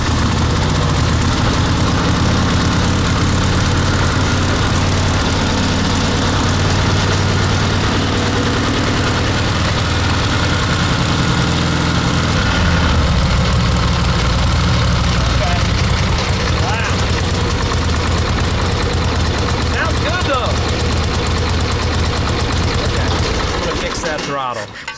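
A kick-started motorcycle engine idling with hydraulic lifters ticking, loud and close, running continuously with a rough rhythmic chatter, people talking over it, and the engine cutting out at the very end.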